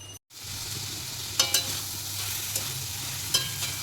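Bottle gourd curry with chickpeas is stirred in a pan, giving a steady soft sizzle with a few sharp scrapes and clinks of the spoon against the metal, close and without talking.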